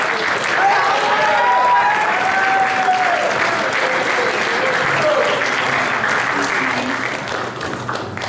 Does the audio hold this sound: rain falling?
no